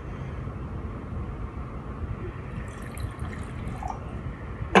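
Water poured into containers for a rainbow walking water experiment, a steady continuous trickling and splashing flow heard up close, ending in a brief louder knock.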